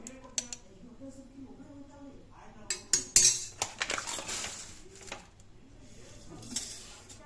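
Henna paste is stirred with unsalted curd in a bowl, with irregular spoon clinks and scrapes against the bowl's sides that bunch into a busier stretch midway, close up with light background noise.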